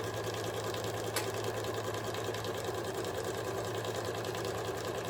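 A sewing machine stitches a fabric cover for a solar power bank, running at a steady fast hum with a continuous rapid mechanical chatter and no pauses.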